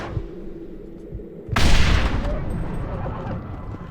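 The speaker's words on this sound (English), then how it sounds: "So 2 zombie animals in one shot with the explosive rifle." An explosive rifle fires in the Red Dead Redemption video game, a single heavy booming blast partway through that trails off into a rumbling decay over a steady low background.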